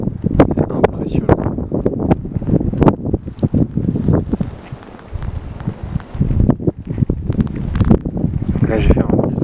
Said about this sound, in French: Regardez le vent qu'il y a.